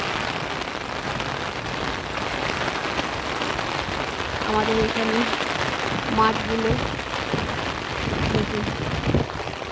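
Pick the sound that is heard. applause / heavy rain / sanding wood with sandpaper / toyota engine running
heavy rain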